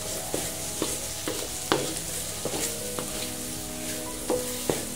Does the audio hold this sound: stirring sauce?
yes